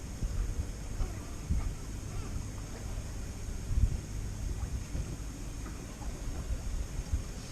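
Wind gusting and building across a microphone while a Hebridean self-steering wind vane is tested on a sailing boat, a steady low rumble with water noise and a few stronger surges.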